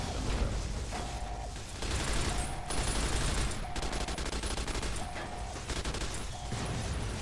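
Plasma Defender energy pistol firing in Fallout: New Vegas, a dense, steady stream of rapid mechanical shots repeating continuously at close range, with a short tonal blip recurring roughly every second.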